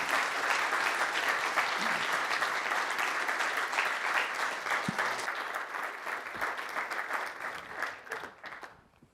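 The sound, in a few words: audience applause after a lecture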